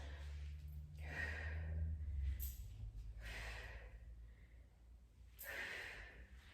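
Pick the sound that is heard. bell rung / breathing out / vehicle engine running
breathing out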